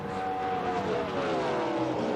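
Race cars roar around a racetrack at night during a 2005 NASCAR Dollar General 300, with parts of a car dragging along the track surface, heard as a steady, loud engine drone with no talk.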